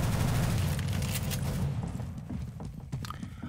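Shotgun fire in Counter-Strike: Global Offensive during an Arms Race round, a loud blast opening the moment and then settling into quieter game background with faint clicks and footsteps.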